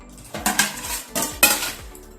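A metal stand being set into a large pot of salt heating on a stove flame gives several sharp metallic clanks and rattles in close succession, loud and close, with no voices.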